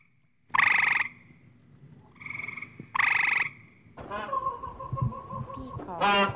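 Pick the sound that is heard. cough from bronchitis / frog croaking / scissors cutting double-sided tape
frog croaking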